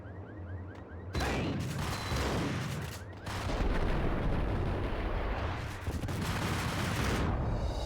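Heavy shotgun blasts in Max Payne, loud booming shots with long rumbling tails, several in sequence over a dense, noisy game soundtrack.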